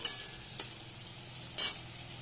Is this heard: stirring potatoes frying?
yes